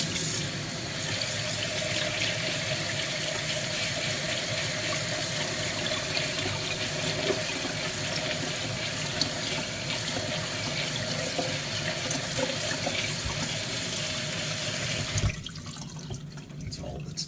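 Cool tap water running over sprouted lentils being rinsed, a steady splashing hiss from a faucet that continues for about fifteen seconds before shutting off, near and clear, with quiet talk in the background.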